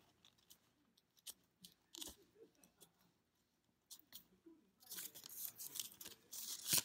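Thick Polaroid-style stickers peel off their backing in short crackly tearing bursts, quiet and close, separated by pauses, ending in a longer louder rip.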